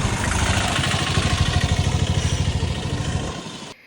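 A motorcycle rides through the Nallamalla forest between Atmakur and Dornala, its engine a loud, steady near drone with a pulsing throb that fades out at the end.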